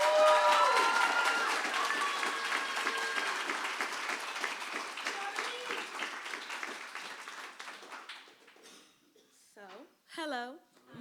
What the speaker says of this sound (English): Please welcome Shola with a loud round of applause